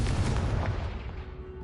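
A Confringo blast curse explodes in Hogwarts Legacy, a heavy booming burst that rumbles loudly at first and then fades away over about a second.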